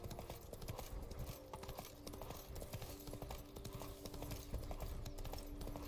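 Roach, a horse in the video game The Witcher 3, gallops with a steady, rapid clip-clop of hooves that runs through the whole stretch, close and fairly loud over a busy game soundscape.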